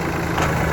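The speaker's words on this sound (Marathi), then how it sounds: "छान पैकी ट्रॅक्टर चालवलं" A tractor engine runs at a steady, even drone during a ride in a village, loud and close for a brief moment with no voices.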